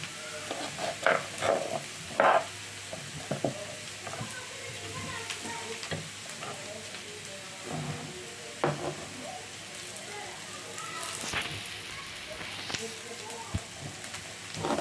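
Eggplant frying in a pan, a steady sizzle and hiss running throughout with occasional clinks and stirring sounds, while a person speaks over the cooking.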